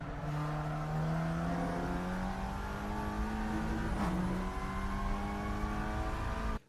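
A Leon Cupra TCR race car engine in Assetto Corsa hums steadily on the Laguna Seca circuit, holding a loud sustained drone with a brief dip mid-way before cutting off abruptly at the end.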